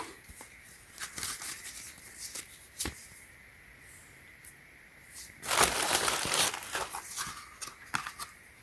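Frosted paper inside the packaging of a new Samsung Galaxy S22 Ultra is handled close up, giving scattered crinkles and rustles with a louder crumpling burst midway.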